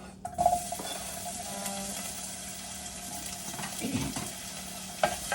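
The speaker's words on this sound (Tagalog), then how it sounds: "magigisa na po tayo" Ingredients for spaghetti are sautéed in a pan, sizzling and frying steadily with stirring clatter and a few sharp utensil knocks, close by and without speech.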